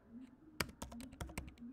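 Keystrokes on a computer keyboard as a MySQL command is typed into a database server, a quiet run of about a dozen sharp clicks in an uneven burst over a low steady hum.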